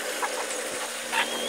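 Free-range chickens on a farm, with a few soft clucks scattered over a steady background hiss, faint and somewhat distant.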